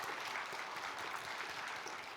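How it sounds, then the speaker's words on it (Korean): Church congregation applauding retirees, a steady wash of clapping from a large seated crowd, fairly distant and even throughout the short stretch. "다시 한번 우리 은퇴하신 모든 분들 큰 박수로 축복하겠습니다."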